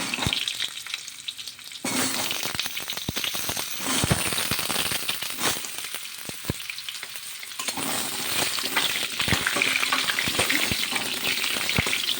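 Potatoes for a potato curry fry in hot oil with a dense, loud hiss and crackle that swells after they go in, broken by sharp pops and spoon scrapes, no voices.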